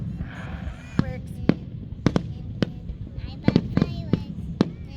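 Fourth of July fireworks at a Phillies ballpark show, sharp bangs going off repeatedly at irregular intervals, with crackling and a murmur of crowd and voices underneath.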